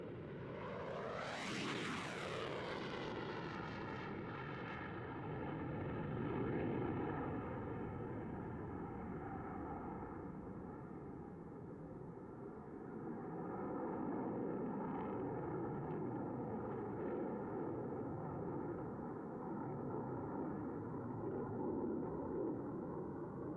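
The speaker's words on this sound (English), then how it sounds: "put your hands together for Major Heister and the F-16 Fighting Falcon!" An F-16 Fighting Falcon jet roars past at an airshow, its pitch sweeping sharply upward near the start before settling into a sustained, loud engine drone that fills the rest of the stretch with no talk.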